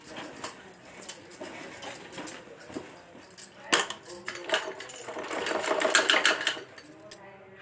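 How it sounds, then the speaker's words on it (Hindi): A sewing machine runs in a steady rapid clatter, stitching a folded fabric hem on homemade underwear, close and continuous with small mechanical ticks throughout. "अब हम कपड़े की नीचे साइड की ओर भी हल्का सा इसे फोल्ड करके मोड़कर सिलाई लगा लेते हैं।"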